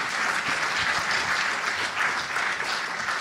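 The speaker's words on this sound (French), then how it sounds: "On peut l'applaudir très très très fort." Steady, dense applause from a large festival crowd, loud and continuous throughout with no voices standing out.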